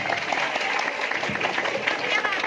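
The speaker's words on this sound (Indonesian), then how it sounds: "Tepuk tangan" An audience at an Islamic sermon clapping continuously, a lively patter of hands with some voices mixed in.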